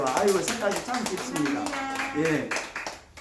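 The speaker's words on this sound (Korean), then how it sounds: "우리 위원장님한테 박수 한번 보내드릴까요?" An audience at a Korean company morning assembly applauds the committee chairman with a brisk patter of clapping that runs under a man's continuous speech, rising and falling in density.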